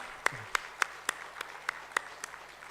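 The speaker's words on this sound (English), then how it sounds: "give them a round of applause for coming and doing this" Sparse, evenly spaced claps, about nine sharp hits over a few seconds, from a small audience thanking the speakers at a Guru Padmasambhava ceremony; fairly quiet, with no voices.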